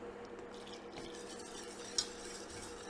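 Spoon stirring liquid into a mac and cheese sauce with onions in the pan, a soft continuous scraping and swirling with one brief clink of utensil against the pot, quiet and close.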